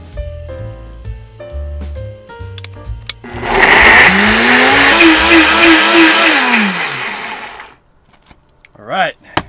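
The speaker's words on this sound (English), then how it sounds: "I haven't used a blender in a very long time" A blender whirs loudly for several seconds making a smoothie, its pitch rising and wavering as it churns, then cuts off; a voice is heard briefly before and after.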